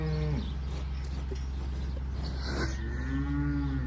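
Fat farm cattle moo close by, one long low call at the start and another drawn-out moo near the end, over a steady low outdoor rumble.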